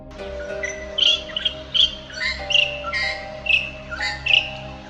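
Fork-tailed drongo calls, several short metallic chirps and whistles repeated in quick succession over a low steady hum.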